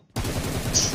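Gunfire in the video game PUBG Mobile, a loud, close burst of rapid automatic shots that starts abruptly after a brief silence and keeps hammering to the end.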